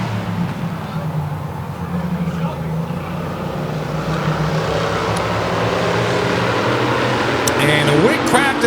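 The number 33 1986 Olds Cutlass race car accelerates at a feature race, its engine drone holding steady and then climbing in pitch near the end, with a voice talking over it.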